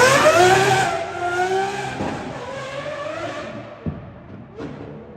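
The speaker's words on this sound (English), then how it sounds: "you can pull up almost any clip of an Aventador and it always sounds good" A Lamborghini Aventador revs hard, its high-pitched engine wail climbing loudly before easing off, followed by a couple of sharp cracks or pops as the revs fall away.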